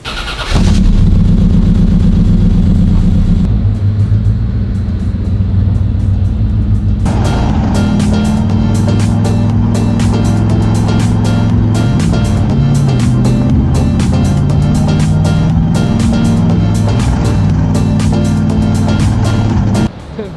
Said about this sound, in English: We're gonna road test this car so that we can test it and turn it over.